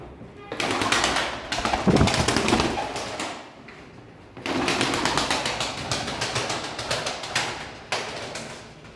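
Tumbler pigeons coo and wings flap in two loud stretches with a brief lull between, close by and busy with rustling movement.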